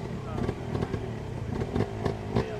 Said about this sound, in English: I hear the bike revving up.